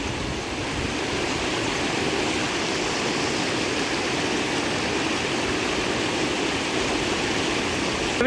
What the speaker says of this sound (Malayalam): നമ്മുടെ സൈറ്റിൽ നിന്ന് കാണുന്ന ഒരു സൂപ്പർ വെള്ളച്ചാട്ടമാണ് കേട്ടോ ഇത്